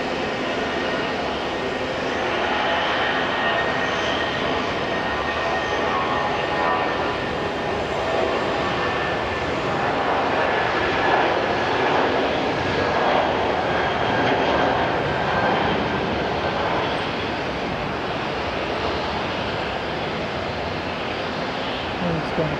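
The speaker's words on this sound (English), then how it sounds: "It's gone pretty long for A320. It's a long take-off roll." An Airbus A320 jet airliner roars through a long take-off roll at Auckland International Airport, a continuous, broad engine rumble that holds steady and fairly loud throughout, with a voice talking over it.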